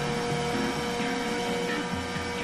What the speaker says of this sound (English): This time, the engine hits the butter zone.